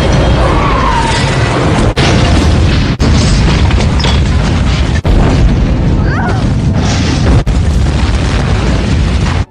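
Bazooka blast blowing up a house in the horror film Hatchet III: a dense, loud, continuous roar of explosion and crashing debris, heavily compressed and rumbling, with short breaks in the sound.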